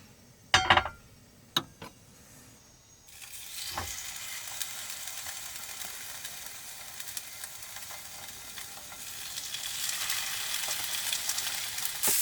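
Harissa salmon and stir-fried vegetables sizzle in a pan, a steady close frying hiss that swells gradually louder after a few initial clunks and taps of placing food down, with no talk.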